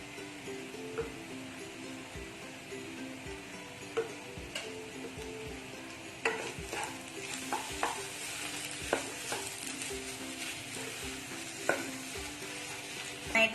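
Tapioca for Kerala kappa thoran is stirred in a pan with turmeric and chili powder, giving repeated scraping stir strokes and light ticks over a soft, steady sizzle, fairly close and with no talking.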